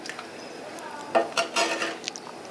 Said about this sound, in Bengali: জলটা দেওয়ার পর আমি মাংসের সাথে জল আর মশলাগুলো খুব ভালো করে এইভাবে মিশিয়ে নিলাম